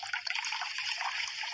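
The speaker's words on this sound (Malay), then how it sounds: "Ada air kan kecil banget ngalirnya." A thin, steady trickle of water runs from a tap in a prayer-room toilet, a faint continuous hiss and dribble heard alone with no talking.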